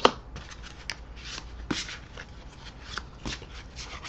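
Oracle angel cards being shuffled and drawn for a reading, with brisk papery riffles and soft flicks in irregular bursts, close and fairly quiet.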